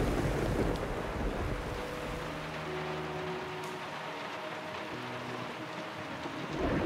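A storm rages in the video game Diluvian Winds, with steady rain and rolling ocean waves forming a dense, continuous wash, while a faint low musical tone hums underneath and no one talks.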